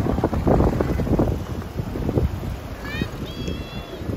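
Gusty wind blows outdoors, buffeting the microphone in uneven rumbling bursts, while people talk and a few high whistle-like tones or calls sound near the end.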